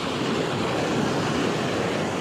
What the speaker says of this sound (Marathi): ही समुद्राची गाज